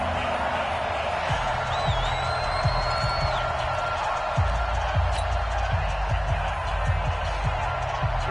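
Stadium crowd in a PS4 American football video game roars steadily at moderate volume, with rhythmic thumps and a brief whistle-like tone, in a Jets game on third down.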